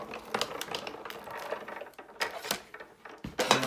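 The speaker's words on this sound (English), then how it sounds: "And then you simply wind it through the machine." A Sizzix Big Shot die-cutting machine being hand-cranked, its plates feeding through with a steady ratcheting, clicking mechanical rattle and a few sharper clunks, close and moderately loud with no voices.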